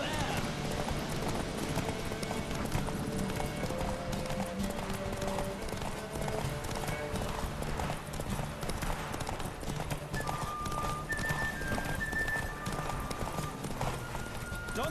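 A horse galloping in the open-world game The Witcher 3: Wild Hunt, with quick steady hoofbeats under a game music score and some voices.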